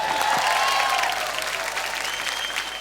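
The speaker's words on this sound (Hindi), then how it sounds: "ताली मार दो" A classroom of students clapping together during an English lesson, a dense burst of applause that gradually thins out over a few seconds, with a faint voice underneath.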